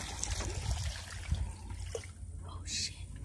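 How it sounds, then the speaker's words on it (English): Water trickles and splashes as it is poured into a small hole dug in rocky ground for a crawdad, with soft voices and outdoor noise around it. "put the water in first"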